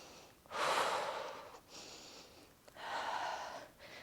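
Deep breathing during a Pilates workout: two long, audible breaths, each a strong rushing exhale-like gust lasting about a second, separated by quieter breathing, close up and with no talking.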